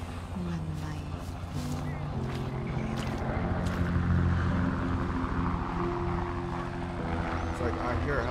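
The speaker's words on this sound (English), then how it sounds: "It's like I hear a helicopter" A steady low mechanical drone with a rhythmic rotor-like thump holds throughout, loud and continuous, while people talk over it.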